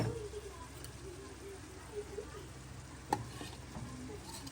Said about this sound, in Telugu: కొంచెం కారం కారం వేసి ఈ బ్రెయిన్ అనేది ఇలా వేసేస్తున్నా